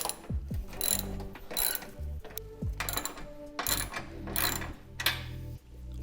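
A ratchet wrench undoes the strut brace bolts on an RB26 engine bay, producing quick bursts of close, loud metallic clicking with short pauses between runs and no talking.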